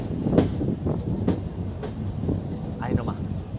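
A train rolls past at a busy Argentine railway station, a steady low rumble with wind buffeting the microphone while people talk over it throughout.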